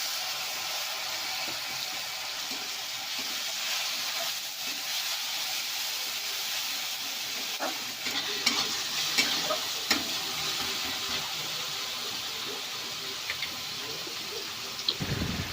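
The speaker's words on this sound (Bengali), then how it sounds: "আদা রসুনটা ভাজা ভাজা হয়ে গেছে, ওর মধ্যে একটা টমেটো বেটে রেখেছি দিয়ে দিলাম।" Ground tomato paste sizzles steadily in hot oil over frying ginger and garlic, a constant hiss with occasional soft stirring clicks and spatters, fairly close, with no talk.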